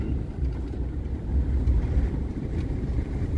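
Wind whips across a lake, stirring up waves in a steady, close, low roar that rumbles without a break for the whole stretch.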